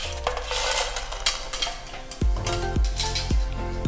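Freshly fried Kerala nendran banana chips, tinted with turmeric, rattle and clatter in a metal pan, with repeated rhythmic scoops and tosses giving sharp crisp clinks over a steady background hiss.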